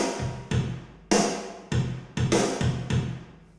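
Solo drum kit run through the T-RackS Stone Room mono crush mic, a handful of punchy, smashed kick, snare and cymbal hits with quick decays, moderately loud with no talk.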